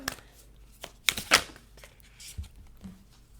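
Moonology oracle cards are shuffled in a quiet room during a card-reading session, with a few soft riffles and papery snaps, two louder bursts near the middle, and faint rustles trailing off.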